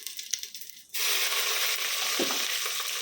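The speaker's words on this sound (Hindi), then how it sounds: "अभी ये पूरे गरम मसाला डालेंगे। अच्छा तड़कने देंगे" Whole garam masala spices hit hot oil, and a loud, bright sizzle bursts in after a quiet second and then crackles on steadily up close.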